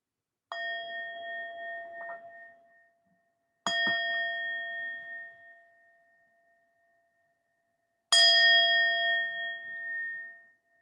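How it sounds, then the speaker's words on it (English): A meditation bell is struck three times at slow, even intervals, each clear ring fading away and the last leaving a long decaying tone that trails into silence, with no voices. "Just preparing for the sound of the bell, listening as long as you can hear the ringing."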